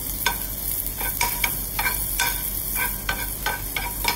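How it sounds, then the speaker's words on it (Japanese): Garlic fries until crisp in a pan during a chef's home-style cooking, a steady close sizzle broken by regular stirring scrapes roughly every half second, with no voices. "ニンニクもカリッと焼き上げます"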